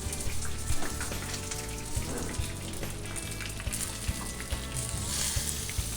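Panko-breaded food frying in hot canola oil, a close, continuous crackling sizzle with dense popping that holds steady and stays fairly quiet throughout.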